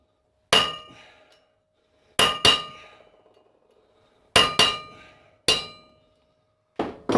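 A socket is hammered through a brake rotor from a 2006 Yamaha YFZ 350 Raptor ATV, giving sharp ringing metallic clangs. They come singly and in quick pairs with pauses between, each leaving a brief resonant ring.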